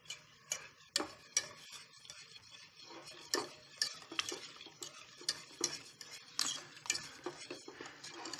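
Whole milk being stirred into a thickening béchamel sauce to break up lumps: close, irregular scraping and tapping strokes of a utensil against the pan, with no talking.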